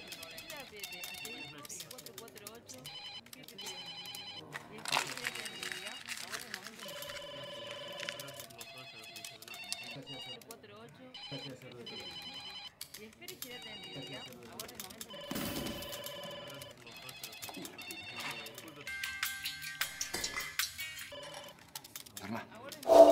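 A telephone bell rings in repeated bursts with short gaps between them, fairly close, while voices talk over and between the rings throughout.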